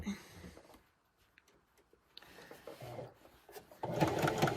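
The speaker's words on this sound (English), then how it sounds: "Just a few stitches in, and then we're going to back stitch all the way back." A sewing machine back-stitches along white cotton lace trim, with short bursts of whirring stitching broken by quiet gaps and a louder, denser run at the end.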